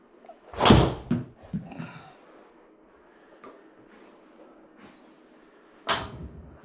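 A Titleist GT2 driver strikes a golf ball with a sharp, loud crack, followed by quieter knocks and rustles. A second strong hit lands near the end. Both strikes stand alone without speech.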